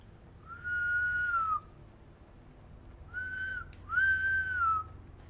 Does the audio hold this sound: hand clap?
no